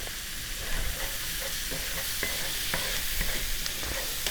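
Garlic paste is stirred into a breakfast chili in a skillet: a steady close sizzle with repeated light scraping strokes of the spoon across the pan.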